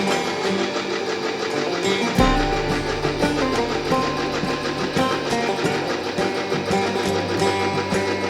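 A sewing machine stitches the side seams of a pair of pants, its steady mechanical whir running throughout alongside sustained background music.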